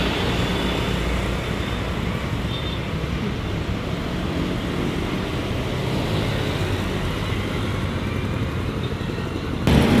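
A medium-sized Sumber Waras Putra bus pulls out of Terminal Tidar in Magelang, bound for Yogyakarta, its steady engine rumble loud and close amid constant broadband terminal noise.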